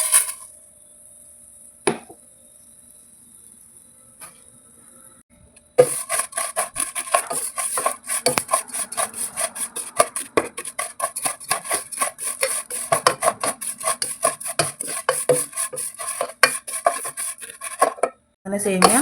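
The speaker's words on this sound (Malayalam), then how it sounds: "ഈ നെയ്യിൽ തന്നെ നമുക്ക് സേമിയ ഫ്രൈ ചെയ്തെടുക്കാം." Vermicelli (semiya) fries in ghee in a pan for caramel semiya payasam while being stirred, giving rapid repeated close scraping and rasping strokes after a quiet start.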